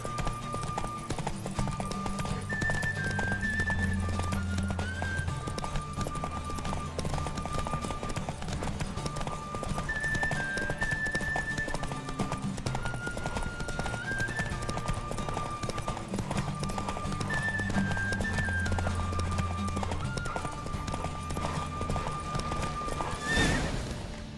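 Galloping hooves clip-clop steadily under a horse race in The Witcher 3 video game, with a horse neighing and whinnying, all layered over constant game music.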